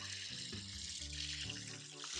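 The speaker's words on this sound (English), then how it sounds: "we're gonna add the double amount of water" Water runs steadily from a tap or is poured onto buckwheat in a kitchen while making gluten-free bread, a continuous close splashing rush without talk.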